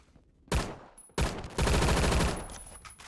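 Automatic ECR rifle fire in the Roblox shooter Phantom Forces, with two loud bursts of rapid gunshots: a short one and then a longer sustained burst that runs to the end.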